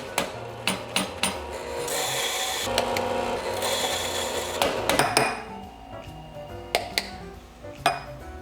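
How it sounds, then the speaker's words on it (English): Coffee grinder at a San Diego roastery grinding beans for cupping, with a steady whirring grind from about two to five seconds framed by sharp clicks and knocks of the machine and cups, no talk. "We'll go over to the grinder and grind."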